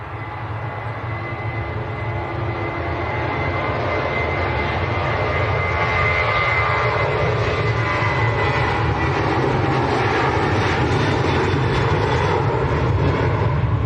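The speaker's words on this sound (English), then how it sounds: "Aircraft that are rolling out quite long, they're just disappearing behind them trees" Jet aircraft engines at Manchester Airport roar steadily and loudly throughout, a broad continuous rumble with a rising whine as a plane rolls out along the runway, with no talk over it.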